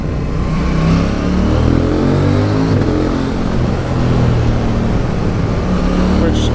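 A KTM 790 Duke motorcycle with a standard exhaust and a cross-plane firing order gives a loud, close, throaty engine note that holds strong and steady throughout.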